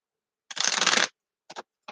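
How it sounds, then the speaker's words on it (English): Tarot cards being shuffled close by: one dense riffling burst, then a few short soft card taps, with no talking. "One more shuffle."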